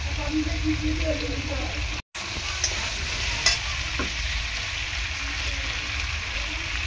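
Potatoes and pumpkin with green chillies being sautéed for Bengali labra give a loud, continuous sizzle as a spatula stirs and scrapes the pan, broken by a brief silent gap, with no talking.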